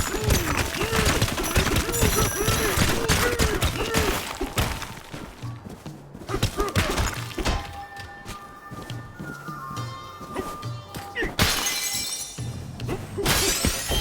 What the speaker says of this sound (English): Donkey Kong's fists are now bleeding from punching glass.